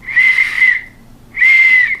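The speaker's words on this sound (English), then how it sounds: "So here we have this neat black whistle with a little cylindrical body" A small black cylindrical whistle is blown softly, giving two steady shrill tones, the second after a brief gap, close up and alone.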